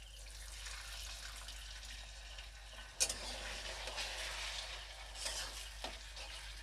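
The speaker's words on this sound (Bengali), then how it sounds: "এখন দিয়ে দিতে হবে হাফ কাপ জল।" Half a cup of water poured into a sizzling egg curry pan, a sharp splash and burst of sizzle cutting through steady frying hiss, followed by stirring scrapes, close by.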